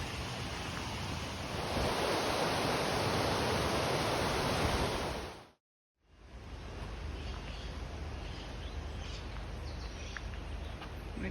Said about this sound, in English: the river, you can probably hear it in the video, is like rushing to our right